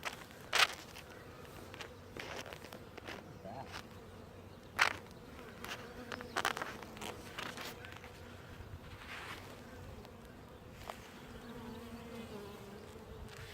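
Honeybees buzz steadily from an opened hive while a package is being installed and the hive inspected, a continuous insect drone with occasional louder passes close by, plus soft clicks and handling knocks throughout.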